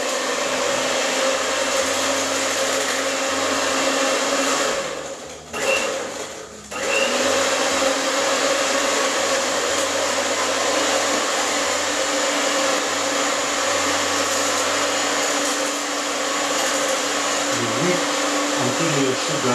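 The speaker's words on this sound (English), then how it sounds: "you need to beat your bananas together with the sugar, oil, and eggs" Bananas beaten with sugar, oil and eggs for a banana cake batter, a loud continuous electric mixer whir that dips briefly midway, then runs on steadily.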